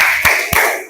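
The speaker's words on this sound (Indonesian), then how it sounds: "Tepuk semangat." Two sharp, loud claps spaced about a quarter second apart, close by, part of a children's rhythmic "tepuk semangat" cheer in a classroom lesson on dhuhr prayer.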